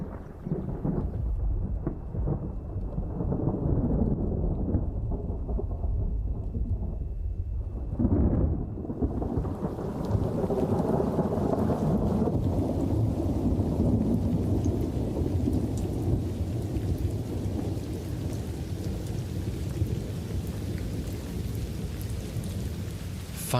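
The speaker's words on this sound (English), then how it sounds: "Finally, rain brings some moisture to the land." Thunderstorm with rain over the Kalahari grasslands: a low rolling thunder rumble builds and swells midway, then steady dense rain hisses on for the rest, loud and enveloping.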